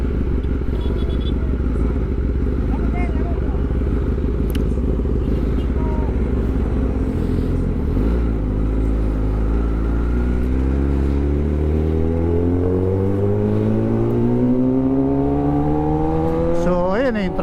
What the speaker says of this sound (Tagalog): Traffic talaga sa lugar na to.